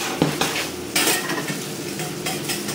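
A metal spatula scrapes and stirs food in a hot frying pan, giving a few distinct clanks and scrapes over a steady sizzle, close and fairly loud with no talking.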